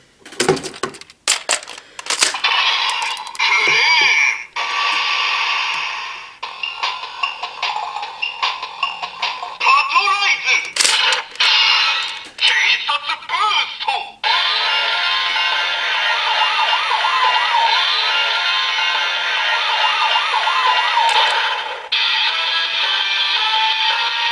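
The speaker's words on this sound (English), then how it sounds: "Next we'll use the vehicles with the Deluxe Versus Changer, starting with Trigger Machine Crane." A DX Trigger Machine Crane toy docked in a Deluxe Versus Changer plays a string of bright electronic effects, beeps, siren-like tones and clicking ticks, then settles into a sustained looping synthesized jingle, loud and close with no talk.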